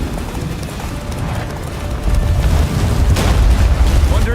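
Roach, Geralt's horse in The Witcher 3, gallops hard through a blizzard toward the fortress during the Battle of Kaer Morhen, hoofbeats pounding steadily and close under loud booming battle noise, with speech in the scene.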